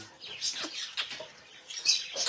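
Small birds chirp in short high bursts, scattered and fairly close, with a few brief calls overlapping across the moment against a quiet background.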